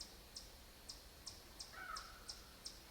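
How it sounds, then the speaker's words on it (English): Repeated caws from a large crow-like bird outdoors near a farm at night, about eight evenly spaced calls carrying from a moderate distance, with a brief, fainter chirping call partway through. "some kind of huge bird out there."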